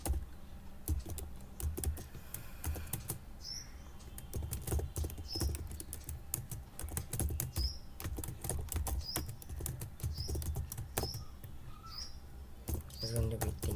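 Python code being typed on a computer keyboard: steady rapid key clicks with occasional heavier keystrokes, close and continuous, with faint talking in the background.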